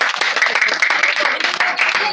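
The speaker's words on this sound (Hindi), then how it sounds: "ताली बजवाइए हाँ ताली बजाइए" A village gathering in Odisha claps along, a loud continuous patter of many hands close by with voices mixed in under it.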